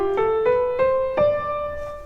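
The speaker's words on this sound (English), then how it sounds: "Dorian sounds like this." A Dorian mode scale is played note by note on a sustained, tonal instrument, with about five evenly spaced notes stepping upward, each with a soft attack, clear and close.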